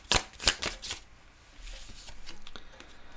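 Tarot cards are shuffled and drawn during a German card reading: a few crisp, close riffling bursts of card stock, then softer sliding and flicking as cards are dealt, with no talking.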